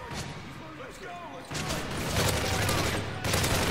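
AK rifle gunfire in the video game Modern Warfare 3, starting after a quieter moment as a loud, dense run of rapid shots that keeps going to the end, with a voice talking underneath.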